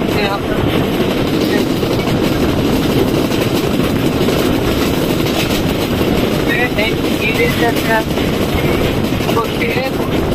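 Passenger train on the Rajshahi to Santahar line, heard from on board as a loud, continuous rumble with rattling carriage noise and faint rhythmic clacking over the rails.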